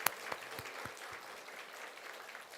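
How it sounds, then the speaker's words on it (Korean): Church congregation applauding together after a call to give praise, a dense steady patter of many hands with a few sharper claps near the start, moderately distant and even throughout. "우리 하나님께 영광의 박수 올려드리겠습니다"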